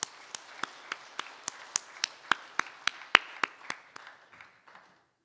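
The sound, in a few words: audience applause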